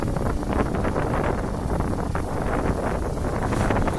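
Strong wind buffets the microphone at a work site where a Kobelco SK200 excavator loads soil into a large six-wheel dump truck, a steady broadband roar filling the whole clip with no talking.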